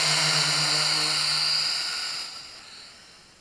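An MJX X400 mini quadcopter drone flies close by with a high, steady whining buzz of small propellers that holds for a couple of seconds and then fades as it moves away.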